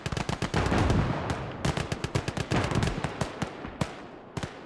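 Rapid rifle and machine-gun fire from the World War II game Gates of Hell, a dense rattle of loud cracks with scattered single shots and distant booms, heard without talk.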